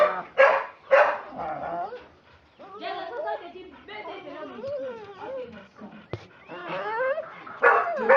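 A dog named Jack gives yips and barks mixed with whimpers, close and varied in rhythm, while someone speaks over it.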